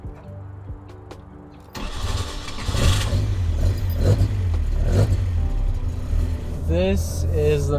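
An Alfa Romeo Giulia Twin Spark fires up after a few quiet clicks, then its engine settles into a rough, close idle with rising revs as the car starts to move, with brief squeaks near the end.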